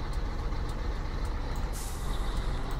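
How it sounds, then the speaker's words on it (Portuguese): A small truck in World Truck Driving Simulator, a steady low engine rumble with a faint hiss of air brakes, constant and moderately distant. "Tá vindo um caminhãozinho ali"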